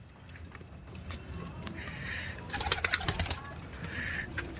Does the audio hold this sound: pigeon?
yes